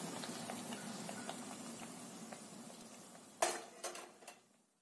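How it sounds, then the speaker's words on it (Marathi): Sweet bajra dhapate fry in hot oil with a soft, steady sizzle, then a few sharp metal utensil clinks and scrapes sound close by near the end. "दोन्ही बाजू छानसं तळून घ्यायचं"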